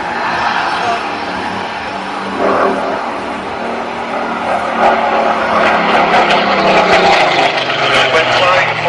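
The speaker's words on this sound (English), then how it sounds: "This aircraft of course having the Griffon engine." A Griffon-engined Spitfire at an air show roars from a distance, a broad engine drone that swells louder as it passes, with someone talking over it.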